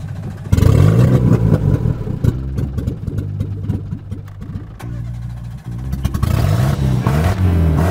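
A car engine, running on a flushed fuel system with hand-sanitiser gel as fuel, cranks and restarts, then revs unevenly before settling into a loud, close, steady idle.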